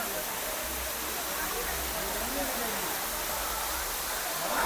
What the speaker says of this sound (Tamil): அங்கங்கே அந்த ஸ்ட்ரீம் மாதிரி தண்ணி ஓடிட்டுருக்குங்க.